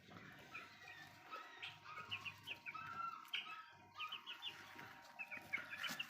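Hens and a young rooster clucking in a backyard flock with ducks nearby, a string of short, faint clucks and squawks with occasional wing flaps, no talk.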